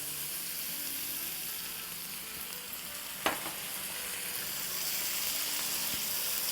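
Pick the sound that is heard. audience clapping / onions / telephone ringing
onions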